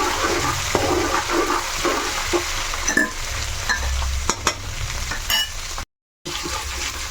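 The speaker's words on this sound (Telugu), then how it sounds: "అల్లం ముక్క అందులో వేయించుకోవాలి" Ginger pieces fry in hot oil with a continuous crackling sizzle, punctuated by a few sharp stirring scrapes and a brief dropout near the end.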